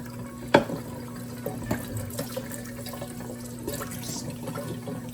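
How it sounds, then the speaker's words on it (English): Tap water running over sticker paper samples at a sink, a soft steady flow with a sharp splash near the start and small spatters, faint and close with no talk. "coat the whole thing in water"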